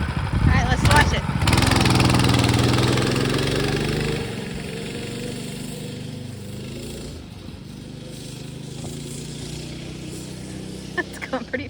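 A small engine started on the choke runs in a steady, loud drone that eases to a lower idle partway through, with a voice talking over it.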